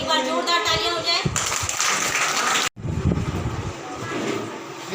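Loud clapping and cheering from an audience of children and adults at an Independence Day school program, a dense broadband burst running under a presenter's voice, with a brief cut midway before the noise resumes.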